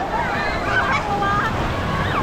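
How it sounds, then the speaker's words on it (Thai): Rough sea waves in a crazy-waves mode at a space-themed hotel, a continuous loud washing roar with wind-like rushing and faint whistling tones throughout. "อันนี้เราอยู่ในอะไรนะโหมด คลื่นทะเลคลั่ง"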